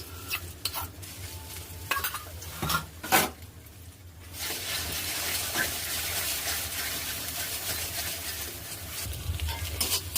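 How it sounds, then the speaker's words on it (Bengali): Beaten egg hits hot oil in a pan after a few clinks and stirring knocks, then a loud, steady, close-up sizzle continues to the end. "ডিমটাকে ফেটিয়ে নিয়ে ডিমটাকে প্রথমে ভেজে নিচ্ছি"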